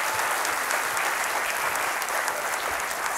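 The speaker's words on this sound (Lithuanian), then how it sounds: "Pasitikime plojimais" Loud, sustained applause from an audience, many hands clapping in a thick, unbroken roar that stays constant from start to finish.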